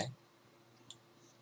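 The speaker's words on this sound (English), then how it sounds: "Go ahead and click on this JDA right here. Click on OK." A single faint computer mouse click right at the start, short and close, followed by quiet room hiss and one tiny tick later.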